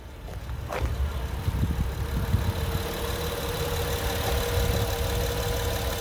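A 2013 Honda Ridgeline with all-wheel drive idles steadily with a low, even engine rumble and faint mechanical ticking, alone and without talk for about six seconds.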